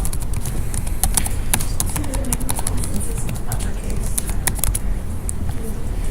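Quick irregular clicking of computer keyboard typing runs steadily throughout, with a voice talking faintly underneath.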